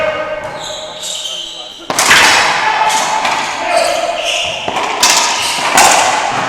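Rapid thuds of a racquetball striking court walls and racquets during a long rally in a men's doubles final at the 2018 Racquetball World Championships, sharp impacts repeating irregularly amid crowd noise and an announcer's voice.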